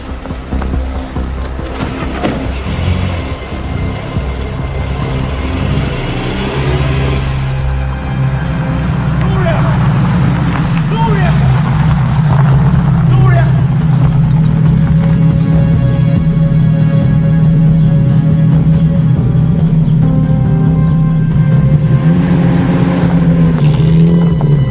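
A car engine idles, then revs and drives off, the drone swelling loud and steady close by as voices talk over it.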